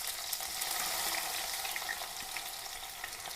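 Crushed shallots frying in hot oil in a pot, a continuous crackling sizzle with fine popping, close and fairly soft, with no talking.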